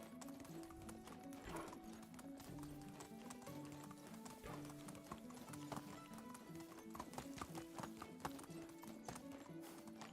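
Horse hooves gallop in the medieval village game Medieval Dynasty, a fast, even clip-clop at close range with a brief whinny, set against background music.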